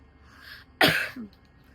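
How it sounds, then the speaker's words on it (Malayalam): A single sharp, throaty cough bursts out close by, followed by a brief softer catch of breath, with quiet moments before and after. "ഓക്കെ, ഇപ്പഴേ ചുമ തുടങ്ങി."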